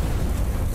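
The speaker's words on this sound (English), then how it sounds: "That explosion must have shaken the whole tower." Explosion in Showgunners, a brief loud low rumbling blast that fills the moment with dense noise.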